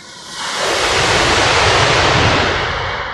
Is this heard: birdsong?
no